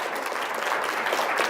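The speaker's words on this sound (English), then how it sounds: "yeah, please clap." Brief, dense applause from a conference audience thanking event sponsors during closing remarks, steady and moderately close for just over a second.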